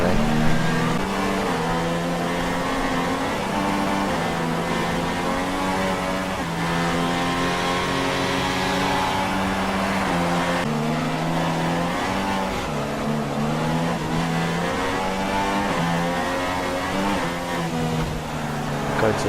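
An F1 race car engine in the F1 2016 video game at the Spanish circuit, a continuous high-pitched screaming whine that rises and falls with throttle and gear changes, steady and loud throughout.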